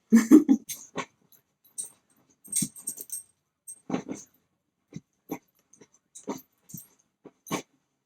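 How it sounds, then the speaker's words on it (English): A dog whimpers and whines at a door to come in, in short, separated bursts with pauses between, close by, with some snuffling breaths. "I think my dog wants to come in."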